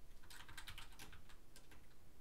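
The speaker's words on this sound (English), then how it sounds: "So we're gonna type that there." Typing on a computer keyboard, a quick irregular run of light key clicks, close and fairly faint against a low background hum.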